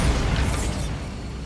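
A Bombarda spell explosion in Hogwarts Legacy hits as one loud, full-bodied blast whose rumbling, crackling burst decays over about a second, with no talking over it.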